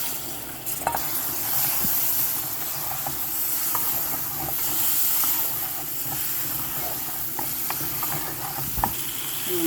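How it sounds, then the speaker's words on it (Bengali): Fresh flat beans being stirred into fried spices in a pan, with a loud, steady hissing sizzle. Occasional scrapes and knocks of the spatula sound close over it, and no one speaks. "এখন আমি উড়ি চালাই দিই, গাছের উড়ি, ফ্রেশ উড়ি"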